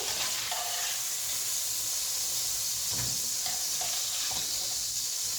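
Pieces of meat browning in a hot frying pan for a Lancashire hotpot, giving off a steady bright sizzle throughout with a few soft clinks and stirring sounds.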